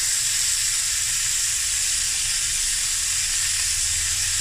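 Sausage for fried rice sizzles and fries in a pan, a dense, steady hiss that carries close and loud throughout with no voices.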